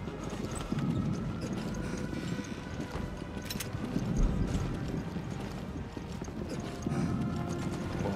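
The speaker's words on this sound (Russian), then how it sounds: "Уже слышу, топают." Heavy, stomping footsteps approach in Resident Evil Revelations, a steady run of rhythmic thuds over a low, ambient rumble that swells and fades.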